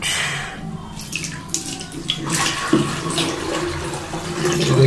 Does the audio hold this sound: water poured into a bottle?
yes